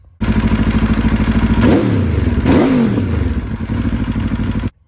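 Aprilia RSV4 V4 sport motorcycle engine running close by, a loud pulsing idle that rises through two quick revs midway before settling and cutting off.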